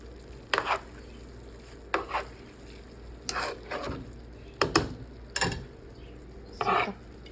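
Bihon rice noodles for pancit being stirred and tossed in a pan, with a handful of scraping, clattering strokes spread unevenly over the stretch, close by and moderately loud with quiet gaps between.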